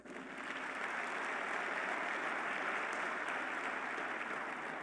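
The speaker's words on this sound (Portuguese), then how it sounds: "Dá um aplauso ao Senhor" A church congregation at a worship service breaks into sustained applause, a dense, even roar of clapping that swells in within the first half second and holds steady at moderate level.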